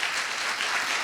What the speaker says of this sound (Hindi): एक जोरदार प्रभु तालियां प्रभु यीशु मसीह के लिए।